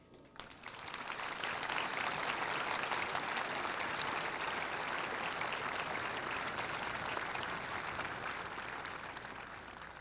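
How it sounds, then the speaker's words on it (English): A large crowd at a Marine Corps recruit graduation at Parris Island in 2004 applauds the drill instructors, a loud, dense wash of clapping that swells in, holds steady for several seconds and begins to thin near the end. "I hope you'll join me in applauding these incredible drill instructors."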